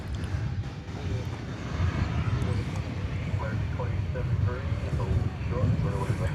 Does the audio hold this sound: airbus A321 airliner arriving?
yes